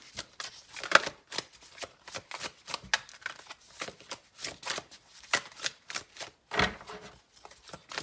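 Tarot cards are shuffled by hand in a rapid run of soft riffling and slapping bursts, close and clear, continuing steadily with no talk.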